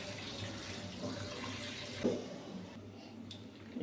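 A tap runs steadily while flour dough is washed under the water. The flow is soft and continuous, with light splashes and a brief clatter partway through.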